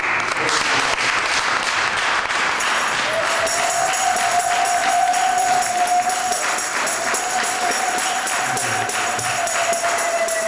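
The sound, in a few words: church congregation standing and applauding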